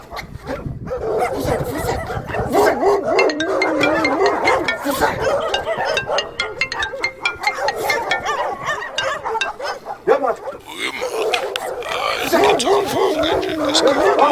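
Dogs bark and yip repeatedly through a busy scene from a comedy drama about watching out for dogs, mixed in with steady talking voices.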